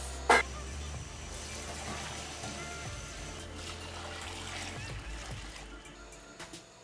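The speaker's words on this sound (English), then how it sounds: "Two large bowls of rice will be soaked with warm water and left for 45 minutes." Warm water is poured over bowls of rice to soak them: a steady, moderately quiet splashing flow with a brief clatter at the start and another near the end.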